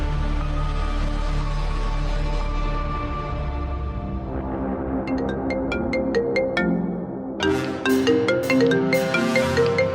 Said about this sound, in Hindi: अरे निकिता, तुम्हारा फोन रिंग कर रहा है।